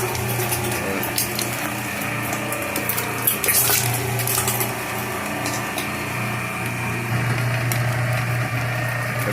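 An old, powerful meat grinder works through boneless cut-up meat with a steady motor hum and scraping, clattering metal noises near the machine. Nobody speaks.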